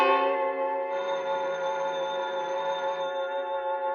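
A bell rings steadily for about four seconds in a 1950 radio suspense drama, a sustained metallic tone that stays close and even with no talk over it, most likely a telephone bell.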